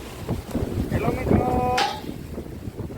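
Gusty wind buffets the microphone with low rumbling roars, while a brief voice and a short tonal sound pass over it.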